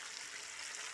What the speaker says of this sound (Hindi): अभी थोड़ा सा लाल लाल फ्राई कर लेगा